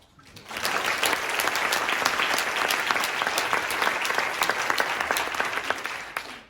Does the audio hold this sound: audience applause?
yes